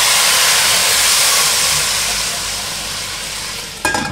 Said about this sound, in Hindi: और अपना तड़का इसमें डालेंगे।